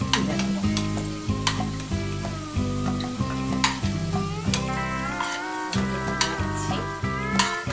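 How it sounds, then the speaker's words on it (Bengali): Potatoes fry in hot oil with a loud, continuous sizzle and crackle, while a utensil stirs and scrapes rhythmically in the pan throughout, briefly pausing midway. No one speaks. "লাল লাল করে আমরা ভেজে নিয়েছি আলুটা"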